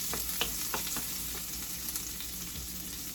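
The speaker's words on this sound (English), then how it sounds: "we're going to start sauteing our onion. Smells so good of the bacon grease" Chopped onion sautéing in bacon grease, a steady close crackling sizzle with small pops and occasional stirring scrapes, no voices.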